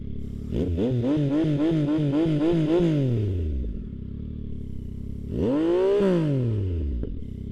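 A 2025 Yamaha MT09 motorcycle exhaust revving up close: a rapid series of sharp throttle blips climbing and falling, then a pause and one longer rev swelling and dying away, loud with no talk over it.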